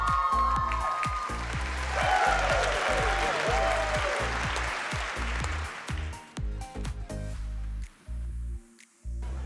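An audience claps for the senior-category winner at a fashion icon contest, a dense burst of applause that peaks early, then thins into scattered claps and fades toward near silence by the end.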